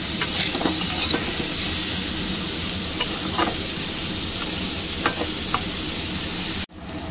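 Potatoes and onions fry together in a hot pan, a steady loud sizzle with occasional soft scraping knocks from stirring, ending in a brief abrupt cut.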